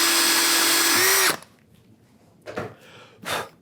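A power drill bores into half-inch plywood with a loud, steady high whine that dips slightly in pitch before stopping, followed by a couple of brief breathy rustles.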